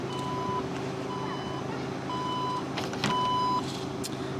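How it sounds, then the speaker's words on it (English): A Porsche's power trunk opens with a series of evenly spaced electronic beeps, repeating about four times over a low steady hum, while other sounds stay quiet in the background. "you could pop the trunk by just pressing this little button right here"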